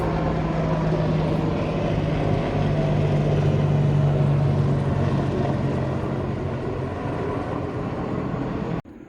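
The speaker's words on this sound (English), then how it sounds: "Helicopters." Helicopters pass overhead outside during a Acura RSX DC5 foglight install, a loud, steady rotor and engine drone with a low hum that holds throughout before cutting off abruptly near the end.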